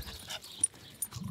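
A dog whimpers softly with faint, brief yips over quiet outdoor background noise near water.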